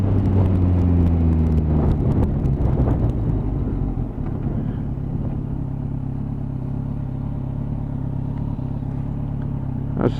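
A GTR engine runs on a Sunday morning ride out through traffic, a loud continuous low drone with a rising then settling tone and some wind rumble, no talk.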